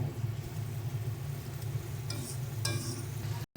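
Fried morola fish being stirred into a simmering bean-seed curry, a soft continuous sizzle with a low rumble beneath and a few louder scrapes of the spoon near the end.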